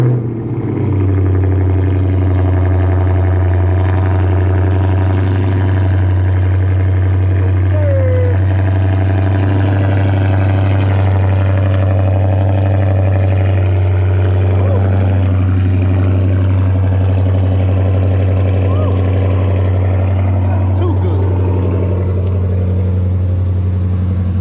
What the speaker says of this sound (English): Let me show you what the Hemi sound like.